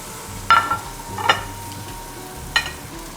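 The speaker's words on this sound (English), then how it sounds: "Now I'm going to add the pork chop directly to the pan," A pork chop is laid seasoned side down into a hot oiled pan, giving a soft sizzle broken by three sharp scraping clatters of metal against the pan.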